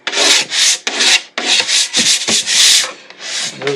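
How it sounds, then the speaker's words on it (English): A razor blade scrapes cured epoxy drips off a guitar body's wood: loud, close rasping strokes in short bursts separated by brief pauses, with no talking. "Just take a razor blade or a scraper and that will take care of that for"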